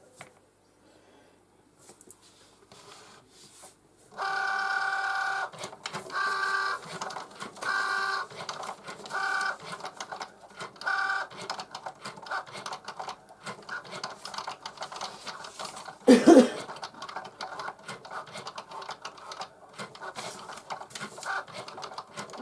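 A Cricut Joy cutting machine cuts out stickers, a steady mechanical whir with rhythmic pulsing runs as the blade carriage moves, after a quiet start, with one brief louder knock near the end.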